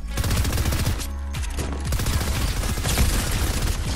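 Rapid SMG bursts in Fortnite crackle steadily across four seconds, dense repeated shots with a few heavier booms mixed in, loud and close with game effects underneath.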